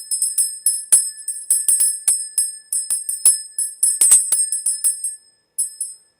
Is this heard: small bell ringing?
yes